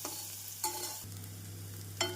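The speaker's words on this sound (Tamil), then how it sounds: "உருளைக்கிழங்கை நாம் மசாலாவுடன் நன்றாக மிக்ஸ் செய்ய வேண்டும்." Potato being stirred into frying masala in a pan, with a few scraping stir strokes over a low, steady sizzle, close and fairly quiet.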